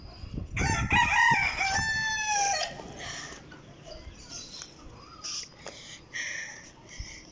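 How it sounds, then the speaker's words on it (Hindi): Chickens and a rooster on a rooftop: a loud crow rings out near the start, followed by scattered clucks and squawks that grow fainter and more sporadic. "मुर्गियाँ सारी वहाँ फिर रही हैं"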